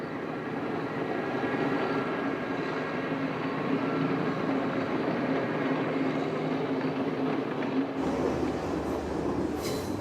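A train travels across Sri Lanka with a steady, loud rumble of wheels and carriage noise that runs unbroken throughout, and a brighter hiss swells near the end.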